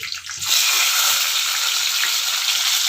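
Onion sizzling in four spoons of ghee with cinnamon, cloves, marathi moggu and bay leaf, a steady, close, broadband frying hiss that starts after a brief quiet moment and carries on without talk.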